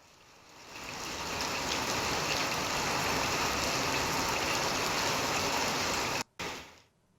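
Heavy rain pours in Mysore, a dense, steady roar that swells in within the first second and holds loud and unbroken, cutting out abruptly near the end before briefly returning; no voices.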